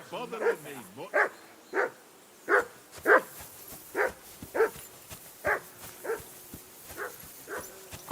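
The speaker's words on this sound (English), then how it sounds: "I assume you can hear that damn dog of yours barking." A dog barks repeatedly in the medieval role-playing game Kingdom Come: Deliverance II, a dozen sharp, evenly spaced barks with some yipping and whimpering, fairly close and loud.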